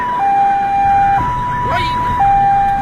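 A Vietnamese police siren wails during a police chase, alternating between two pitches about once a second, loud and close over road noise, with a brief extra sound partway through.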